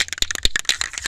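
A spray paint can for painting the black rims of a turbo 1993 CB7 Honda Accord rattles as it is shaken, a quick run of about a dozen sharp, close metallic clacks in just over a second.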